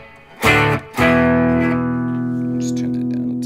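Electric guitar boost tone through a Fractal FM9, two strong strummed chords in quick succession, the second ringing out long and steady with a light overdriven edge, heard alone at close range.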